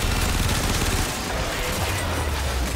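Dense, rapid bursts of gunfire in Warframe pile into a loud, continuous barrage with heavy low rumble throughout.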